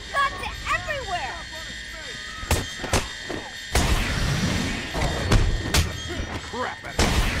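Sharp gunshots and thuds sound intermittently in the Batman Arkham Asylum video game, mixed with game character voices and effects, loud and close, with several separate bursts.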